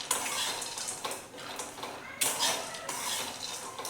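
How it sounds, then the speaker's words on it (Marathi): Grated coconut and roasted chana are dry-roasted together in a pan without oil, making close, rhythmic scraping and rattling strokes of a spatula against the metal with a light crackle. "आता आपण याच्यामध्ये थोडंसं खोबरं टाकून घेऊयात आणि हे पण थोडंसं चांगलं परतून घेऊयात"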